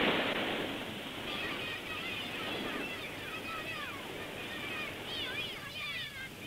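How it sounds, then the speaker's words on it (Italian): Waves of the Cantabrian Sea wash steadily against the Spanish coast between Bilbao and San Sebastián, a broad continuous roar of surf with wind, heard under a faint background voice. "Questo è il mare Cantabrico, tra Bilbao e San Sebastiano."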